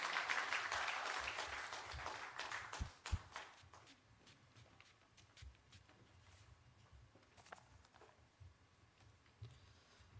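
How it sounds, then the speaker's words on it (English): Audience applause at a UNDP Youth Co:Lab Springboard award-giving ceremony, strongest in the opening seconds, then thinning to scattered claps and shuffling footsteps. "Can we give a big round of applause?"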